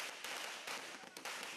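Firecrackers bursting at Diwali celebrations in bordering villages, a dense run of sharp cracks and pops at moderate distance, steady throughout with no talk.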